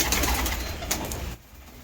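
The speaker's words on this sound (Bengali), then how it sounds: "এই যে আমার 8-7 পায়রা, এরাও ডিম দিয়ে দিয়েছে" Pigeons nesting on freshly laid eggs coo low and throaty nearby in a hot-weather loft, the sound muffled under steady background noise before it drops off.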